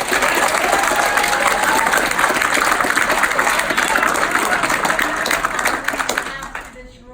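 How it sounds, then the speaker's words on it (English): Audience in a packed room at a Community Board 8 zoning meeting in Lenox Hill bursting into loud, sustained clapping that swells for several seconds and then fades out. "I ask you to hold the applause."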